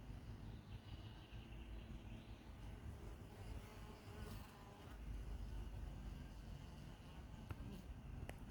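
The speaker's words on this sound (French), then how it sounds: "Elles sont sympas ces abeilles, on dirait les abeilles noires, hein." Black honey bees at an apiary, a faint continuous buzzing hum with a steady drone throughout, outdoors and fairly quiet.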